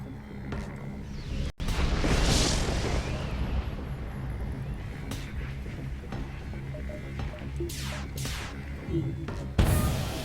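A ship weapon fires in FTL, a sharp shot followed by a loud rushing burst. Further whooshing projectile sounds come later, set over a low, steady ambient hum.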